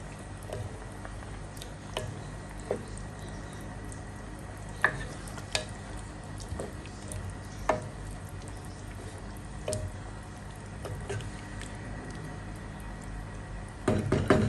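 Liver being stirred in a pan while cooking igado, a Filipino dish with carrots and potatoes in broth: faint, steady scraping and soft sizzling with occasional light clinks and drips, ending in a louder clatter.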